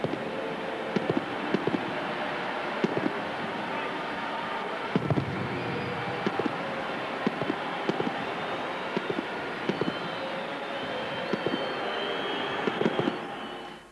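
Fireworks burst in the streets of Vigo as crowds celebrate Celta's qualification for Europe, sharp irregular cracks and bangs scattered over a constant dense roar of the crowd.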